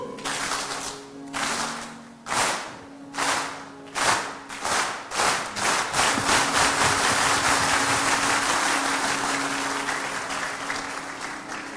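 An audience claps in unison, following a leader's hand signals: single separated claps at first, then quickening into a faster run of rhythmic claps that blurs into sustained loud applause, with some voices mixed in.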